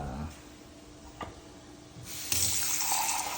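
Water splashes and rushes steadily into a pan, growing louder and brighter partway through, with a faint click along the way.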